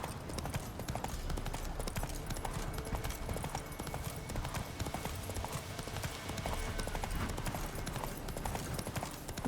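Roach, a horse in The Witcher 3, trots with a steady, brisk clip-clop of hooves, continuous and fairly close, with faint background ambience.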